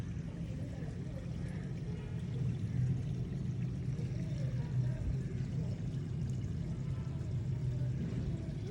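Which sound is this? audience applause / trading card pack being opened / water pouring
water pouring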